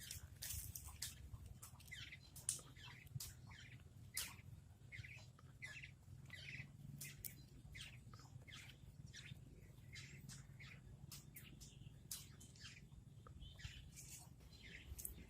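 Caged starling, bulbul and other small birds chirp in quick repeated bursts throughout, fairly close, over a steady low hum of background noise.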